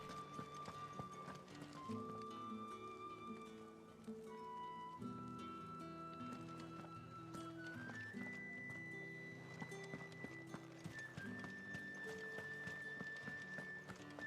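In Final Fantasy XVI, hooves clip-clop steadily over a busy game background with music-like tones, and a horse whinnies briefly; no speech.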